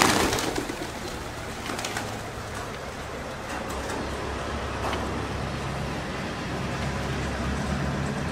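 A flock of pigeons cooing near a small family prayer building, soft repeated coos over a constant bed of distant road traffic.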